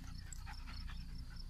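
A dog, just over a year old, pants close by in quick, steady breaths among hay bales.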